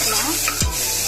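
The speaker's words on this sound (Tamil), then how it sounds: "ஒரு நிமிஷம் வதக்கினா போதும்." Ginger garlic paste sautéing in a pan for chicken kurma gives a brief steady sizzle with a single scrape or knock of a spoon partway through.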